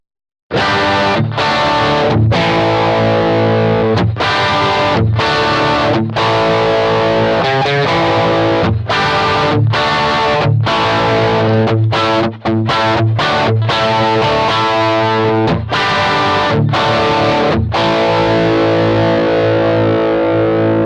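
Loud distorted electric guitar with T-top humbucker pickups strumming chords and riffs with a thick, driven tone, playing continuously without any voices.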